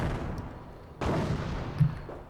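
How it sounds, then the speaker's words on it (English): A 105mm howitzer artillery barrage in the Company of Heroes video game: a steady battlefield rumble broken by a sudden loud blast at about one second, then sustained roaring with another heavy thump shortly after. "105mm howitzer barrage going down right there."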